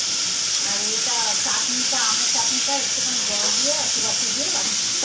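Whole cumin seeds sizzle in hot oil while tempering for a home-cooked dish, giving a steady, loud hiss and crackle that runs the whole time under some faint background voice.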